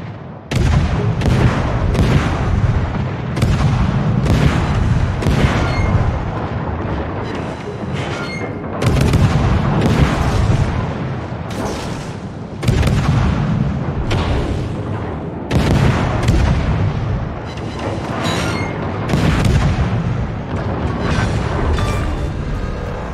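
Naval gunfire and ship explosions in the World of Warships video game: heavy, loud booms and blasts repeat in clustered volleys, with a rumbling roar that fills the gaps.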